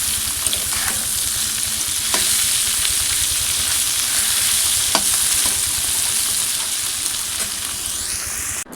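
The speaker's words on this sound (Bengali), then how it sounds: "এই দেখো বন্ধুরা চিচিঙ্গা ভাজা হচ্ছে" Snake gourd frying in a pan, a loud steady sizzle with occasional soft clicks of a spatula, close and continuous with no talking.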